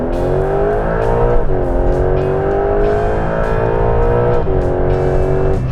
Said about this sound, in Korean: GTS의 사운드가 볼륨은 확실히 크거든요.